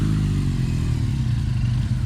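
A motorcycle rides at low speed during a riding training exercise, its engine giving a steady, close, low throbbing drone with no talk.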